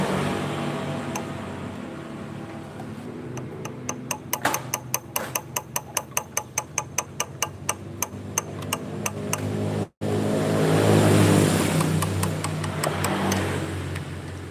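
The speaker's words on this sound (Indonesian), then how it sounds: "begitu digas kayak ada suara aneh-aneh di dalam mesin" Yamaha RX King two-stroke motorcycle engine running roughly: a steady rumble with a run of sharp, evenly spaced knocks in the middle, a brief cutout, then a louder, rising rev.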